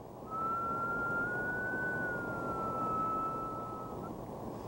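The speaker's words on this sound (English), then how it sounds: "as the train comes towards you and goes away, the note rises and then falls" A train whistle sounds as one continuous tone that rises slightly and then falls as it passes, demonstrating the Doppler effect. It is a single steady note over a soft background hiss, fairly faint and alone.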